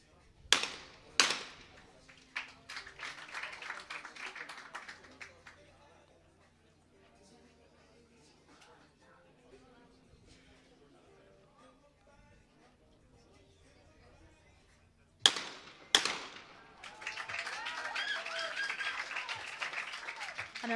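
Skeet shotgun reverse pairs at a junior men's championship in Châteauroux, France: two pairs of sharp, loud shots, each pair fired in quick succession, the first near the start and the second about fifteen seconds later, followed by applause, with quiet talk between.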